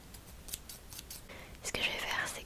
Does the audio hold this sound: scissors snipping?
yes